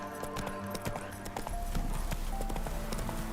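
Hooves from a galloping horse in The Witcher 3 clip-clop in a quick run of close, sharp hits, then go on over a rising rumble of game sound and music.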